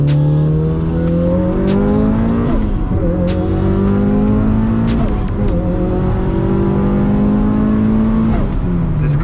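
A Mitsubishi Evo accelerates hard through the gears, loud and close from inside, its engine note climbing repeatedly with brief dips at each shift and turbo or blow-off chatter between pulls.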